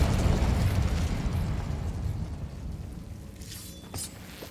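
A Confringo blasting spell erupts in the game Hogwarts Legacy: a loud, rumbling explosion that fills the opening seconds, then slowly fades into a quieter tail with a small pop near the end.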